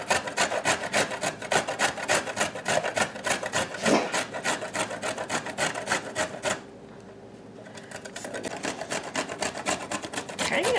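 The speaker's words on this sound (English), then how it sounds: "I'm shredding carrots, guys." Carrots shredded on an old-fashioned box grater, rapid rhythmic rasping strokes close up, pausing briefly about two-thirds through before the scraping resumes.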